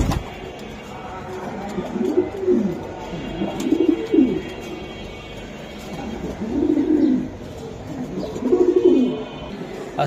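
Pigeons cooing at a pigeon sale, a series of soft low rolling coos repeating every couple of seconds, close and fairly clear over a quiet background.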